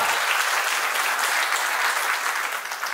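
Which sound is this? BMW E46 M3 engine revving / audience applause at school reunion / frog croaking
audience applause at school reunion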